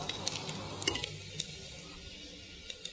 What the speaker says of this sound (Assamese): পিয়াজখিনি ৰঙচুৱা হোৱালৈকে ভাজি থাকিব লাগিব।